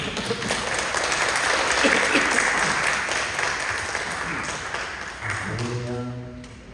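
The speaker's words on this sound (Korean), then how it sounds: "목사님 나오시면 우리 환장하는 박수를" Church congregation applauding at a Sunday worship service, a dense, steady wash of clapping from many hands filling the room, easing slightly toward the end as a few voices rise beneath it.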